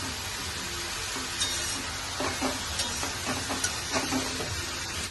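Leafy greens tossed into a hot pan with green chilies sizzle steadily, with faint stirring scrapes and clicks over a continuous frying hiss throughout.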